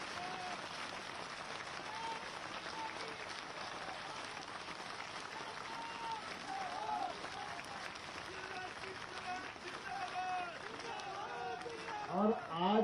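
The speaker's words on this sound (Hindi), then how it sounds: "पहली बार आगमन पर ऐसी तालियां बजना चाहिए जिससे कमलनाथ भी हिल जाए" Crowd at an outdoor public political rally clapping steadily, a distant, faint wash of applause mixed with crowd noise, while a voice speaks over it toward the end.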